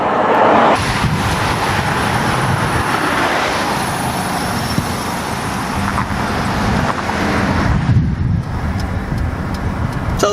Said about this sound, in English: Well, we're just rolling down the hill.